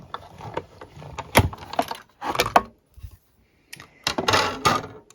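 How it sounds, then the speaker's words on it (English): A hand-cranked die-cutting embossing machine cutting a card tag, giving close, clustered mechanical clicks, ratcheting creaks and grinding rollers in uneven bursts with short pauses between. "I'm just going to send this through the embossing machine again"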